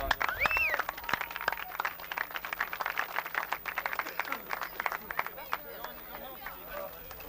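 Crowd at a 1991 Under-21 A East Mayo hurling final between Charlestown and Ballaghadereen cheering and clapping for the referee, a steady dense spread of applause and shouts with voices mixed in throughout, fading slightly toward the end.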